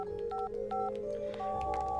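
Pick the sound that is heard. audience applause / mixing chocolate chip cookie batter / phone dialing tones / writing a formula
phone dialing tones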